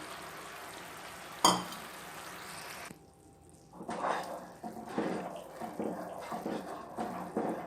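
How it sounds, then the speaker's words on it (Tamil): Sugar syrup for ghee Mysore pak boils in a pan and is stirred; the sound is faint, with soft bubbling and scraping, and one sharp knock early on. "இப்போ பார்த்தீங்கன்னா இந்த சர்க்கரை நல்லா கொதிக்குது இல்லையா."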